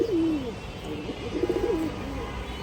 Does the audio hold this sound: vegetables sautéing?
no